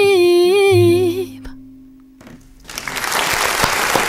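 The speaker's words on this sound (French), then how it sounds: "Ouais, les applaudissements." An audience breaks into applause after a sung performance ends, the dense clapping rising in the last second and a half after a held note fades into a quiet pause.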